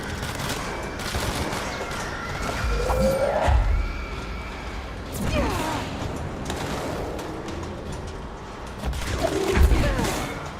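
Bursts of gunfire and a heavy explosion boom out in a physics shooter game, several sharp blasts with rumbling low thuds spread across the clip amid steady background noise.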